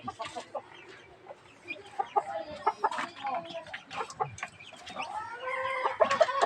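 Basilan chickens clucking repeatedly at close range, with several birds overlapping in short, uneven bursts and soft calls that grow busier toward the end.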